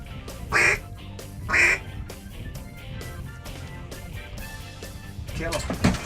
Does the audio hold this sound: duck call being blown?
yes